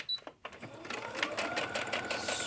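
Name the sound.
sewing machine stitching a journal page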